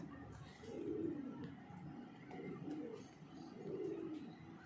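Soft, low coos of Teddy pigeons repeat in a slow rhythm of about three rounded phrases, fairly quiet and close, with faint background noise.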